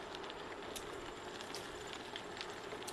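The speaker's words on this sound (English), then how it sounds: "the trains come through here, 40 or 50 a day. Norfolk Southern trains." A distant Norfolk Southern freight train rumbles past with a steady broadband roar and faint metallic squeals and clanks, quiet and continuous throughout.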